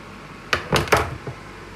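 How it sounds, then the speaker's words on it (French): Parmigiano cheese grated over a mushroom and chorizo risotto: a few short, bright scraping strokes close by, three main rasps in quick succession then a fainter one, in an otherwise quiet kitchen. "On va râper un peu de parmigiano"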